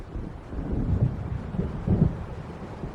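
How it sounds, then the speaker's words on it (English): Deep rolling thunder from an approaching storm swells and rumbles in the Alan Wake Remastered game, with a wash of wind and rain underneath and no voices. "It seems there's a storm coming."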